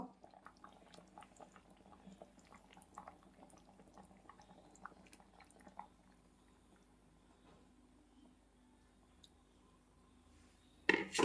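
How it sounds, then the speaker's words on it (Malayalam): Chicken curry with potatoes simmering in coconut milk, faint bubbling and soft popping blips for the first half, then near quiet, ending with a brief louder knock. "ചിക്കൻ കറി കിടന്ന് തിളയ്ക്കണ തിള കണ്ടോ"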